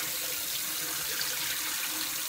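Water poured off rinsed rice pours and splashes steadily into a sink or pot for a couple of seconds, a continuous close rushing sound.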